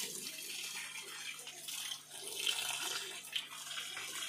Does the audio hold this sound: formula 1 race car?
no